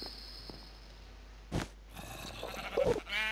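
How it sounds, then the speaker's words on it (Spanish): Sheep in a video game bleat in two short, near calls with a quiet hissing background, and a few faint rustles come between them. "¿Y qué hacemos con estas ovejas?"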